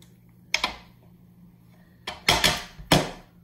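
A duplicate denture is popped out of its mold with a small buffalo knife, giving a few sharp clicks and clacks, close by and separated by quiet gaps.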